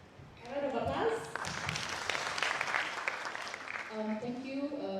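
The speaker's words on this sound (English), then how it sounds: "A round of applause." A forum audience applauds, a burst of clapping rising right after a voice and continuing steadily for several seconds, with speech breaking in again toward the end.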